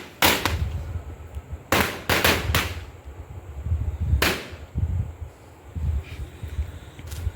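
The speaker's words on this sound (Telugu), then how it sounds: "ఆ తర్వాత వెంటనే క్రాకర్స్ అయితే స్టార్ట్ చేసాము." Diwali firecrackers going off in a festive outdoor setting, a series of loud, sharp bangs in uneven bursts, some closely spaced, with quieter crackling and wind between them.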